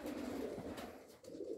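Pigeons, white wide-tailed breeding birds, coo in a breeder's loft in Stavropol, a low rolling murmur close by that continues steadily under faint room noise.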